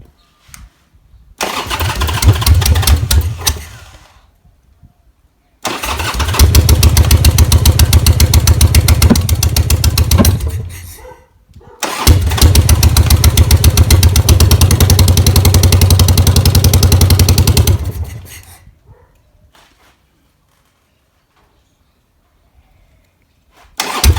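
A custom Harley-Davidson Sportster rigid bobber engine cranks and fires on its first run in a year, three loud bursts of rough, rumbling running separated by brief cutoffs, then fading to quiet.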